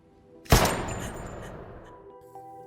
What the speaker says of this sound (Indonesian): Asa dikejutkan dengan suara tembakan pistol